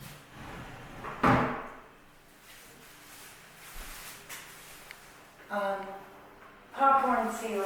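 Sliding closet doors in a bedroom of a brick home rumble and thud as they are moved, a few distinct bumps and rolls against quiet room tone, with a voice speaking over parts.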